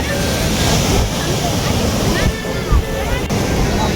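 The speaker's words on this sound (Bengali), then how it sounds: "এই একটা দুটো বেশ বড়সড় আসছে, তখন এই বাঁধানো যে এটা বাঁধানো আছে এর উপরে চলে আসছে হুড়মুড়িয়ে" Big waves surging and crashing over the paved embankment at Bakkhali beach, a continuous loud roar of surf and wind with a heavier rush partway through.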